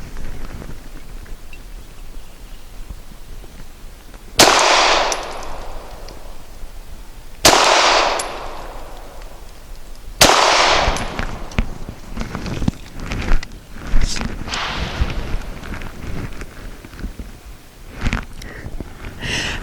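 Three loud, evenly spaced pistol shots from a Canik TP9 loaded with 124 grain ammunition, each a sharp crack with a short decay, followed by lighter clattering and rustling noises outdoors.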